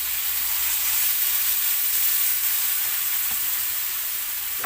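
Tomatoes frying with onions in a pan for pinakbet give a steady, close sizzle with bright hiss throughout and faint stirring scrapes, no voices.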